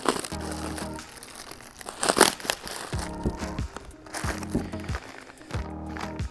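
A plastic bag around a turbo flange adapter from a 10th-gen Civic 1.5T turbo kit crinkles and crunches close by in bursts during unboxing, with rustling handling noise between the louder crumples.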